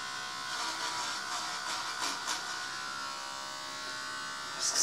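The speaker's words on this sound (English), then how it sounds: "I'll just take the clippers to this. Make sure they shaving my sideburns off." Electric hair clippers buzz steadily close by while shaving off sideburns during a dreadlock cut, a continuous high whine that flickers slightly as the blades move through the hair.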